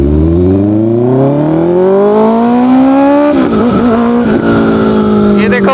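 A four-cylinder motorcycle fitted with an Austin Racing exhaust revs loud and close, its pitch climbing smoothly through a long pull, then settling and wavering as the throttle eases off, with a faint voice near the end.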